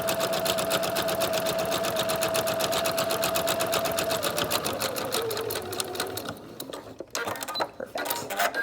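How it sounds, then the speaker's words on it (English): A sewing machine stitches along the bottom edge of the fabric on a 3-D singer's face mask. It runs as a steady, close rapid clatter for about six seconds, then breaks into short stop-and-start bursts. "we're just going to go ahead and sew along the bottom side now of our fabric"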